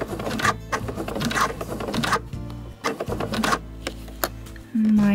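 A sewing machine stitches slowly through the thick tab of a drawstring bag. Its needle patters in rhythmic bursts that pause and restart, then it ends in a steady whir.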